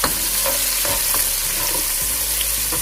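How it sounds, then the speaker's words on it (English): Onion frying in olive oil in a pan, a steady sizzle with intermittent stirring scrapes and clicks, close and fairly loud. "So I will fry the onions until it gets to translucent."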